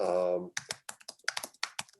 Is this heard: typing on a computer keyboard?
yes